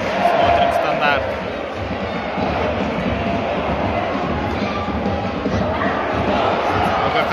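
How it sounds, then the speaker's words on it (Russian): Football fans of Zheleznichar fill a roofed Bosnian stadium with a constant roar of crowd noise and chanting, a steady loud wash heard beneath someone talking nearby. "Здесь тоже активно болеют."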